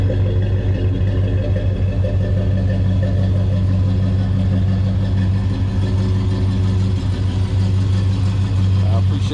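A Monte Carlo SS idles through low master exhaust pipes, giving a steady, deep, loud rumble that holds evenly throughout at close range.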